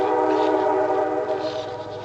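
A Nathan Airchime K5LA train horn blows loudly and close during a run-by, a sustained multi-chime chord holding steady for about two seconds with only slight fading toward the end.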